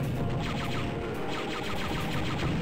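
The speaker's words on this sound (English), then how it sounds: "There's something shooting at me." Rapid blaster fire from a dark trooper in Star Wars: Dark Forces on an ice planet level, a dense continuous volley of shots crackling steadily throughout, loud and close with no talking.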